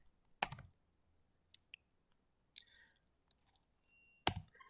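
Typing a command on an Android phone keyboard in a terminal app, a few sparse soft taps and clicks with long quiet gaps between them, close and faint.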